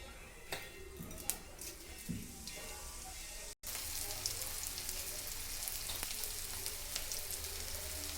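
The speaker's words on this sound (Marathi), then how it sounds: "कांदा, टॅमॅटो, हिरवी मिरची छानपैकी परतून झालेली आहे." Onion, tomato and green chilli sautéing in a pan for chapati chivda, a soft continuous sizzle with occasional crackles and stirring, fairly quiet and with no talk.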